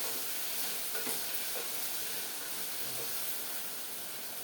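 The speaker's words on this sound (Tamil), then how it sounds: "இப்போ வந்து ஓரளவுக்கு வெங்காயம் வதங்கிடுச்சு" Onions sautéing in a pan for a home dinner dish, a steady soft sizzle and hiss running throughout with faint stirring scrapes, no voices.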